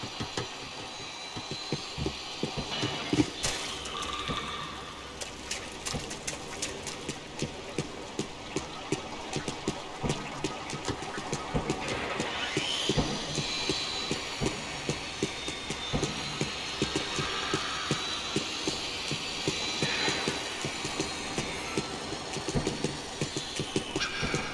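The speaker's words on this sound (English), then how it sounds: "I could hear drilling through the wall." Muffled drilling through a wall in the video game Max Payne 3: a faint, continuous mechanical grind broken by rapid rhythmic pulses, with no voices.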